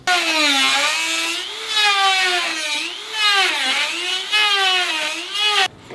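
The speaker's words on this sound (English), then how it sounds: "or you can use an oscillating saw" An oscillating saw cuts into a Toyota 4Runner fender panel for trimming. It makes a loud, close, continuous high whine whose pitch rises and falls as the blade loads, then stops abruptly just before the end. No one speaks.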